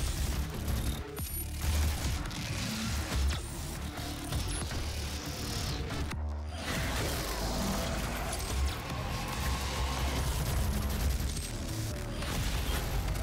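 Dense, continuous heavy gunfire and mechanical clanking from a big gun in the DOOM video game, loud and relentless with crashing impacts throughout.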